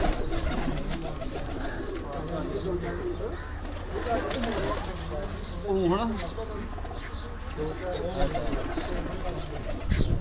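Champion racing pigeons in a Punjab loft coo in repeated soft, throaty phrases close by, with someone talking over them and steady background chatter throughout.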